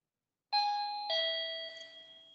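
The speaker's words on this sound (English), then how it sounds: "And you have the doorbell" A doorbell chimes two tones, a sustained bright ding followed by a lower dong half a second later, ringing clearly and fading slowly with no talk over it.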